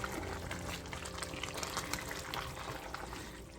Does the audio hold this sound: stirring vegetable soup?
yes